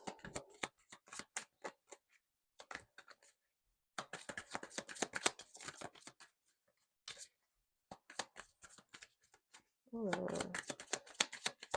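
Tarot cards being shuffled by hand in bursts of rapid riffling and flicking slaps, close and fairly quiet, broken by pauses, with a voice speaking near the end.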